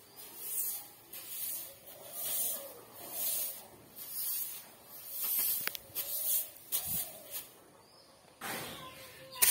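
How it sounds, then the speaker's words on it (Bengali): A broom sweeps across a room's floor in steady rhythmic strokes, each a soft bristly swish about a second long, repeated close by with short pauses between and no talking. "দেখো এখন ঘরটা ঝাড় দিয়ে নিচ্ছি"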